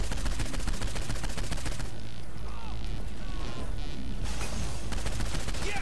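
Rapid automatic gunfire from Saints Row 4 pours onto a tank's rear panels, a dense crackling stream that stays loud and steady, thinning briefly midway before resuming, with game sound layered beneath.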